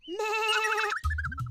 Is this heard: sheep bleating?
yes